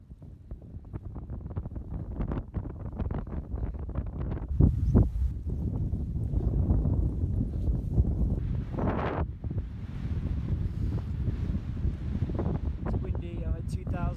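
Strong wind at about 2,000 metres altitude in the mountains buffets the microphone in loud, continuous gusts, a rough roar that rises and falls with no pause.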